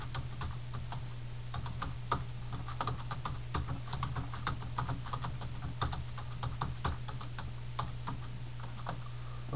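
Steady, quick tapping on a computer keyboard while writing in Microsoft Word, close and even, with a low constant hum underneath and no talk.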